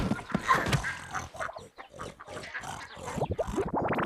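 Cartoon pigs oink and grunt in a rapid, busy jumble of snorts and squeals, loud and close, with short pauses between bursts.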